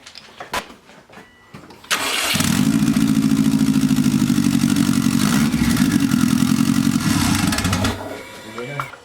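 A Subaru STI, freshly converted to rear-wheel drive with a 5-speed clutch, flywheel and pressure plate, cranks and fires at about two seconds, then settles into a loud, steady, lumpy idle that runs for roughly six seconds before cutting off.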